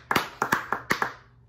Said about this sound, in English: I'm gonna clap it away for this guy